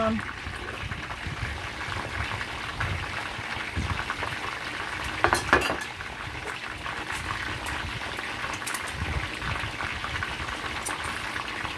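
Chicken feet frying in a pot for Chinese dim sum style chicken feet, a steady bubbling sizzle of hot oil throughout, with a brief louder clatter midway and a voice talking over it.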